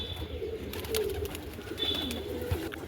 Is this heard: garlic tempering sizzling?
no